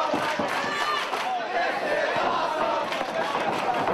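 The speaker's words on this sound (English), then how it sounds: "this NWA Houston crowd loving what they're seeing right now." The crowd at an NWA Houston wrestling show roars and cheers steadily, a dense, loud wall of shouting voices that lasts throughout.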